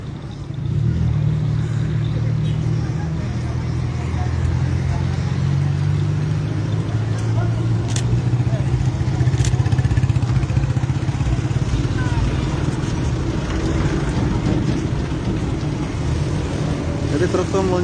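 Traffic on a main road in Samarinda rumbles continuously, with engines of cars and motorcycles droning close by at a loud, steady level and a few brief clanks and rattles on top.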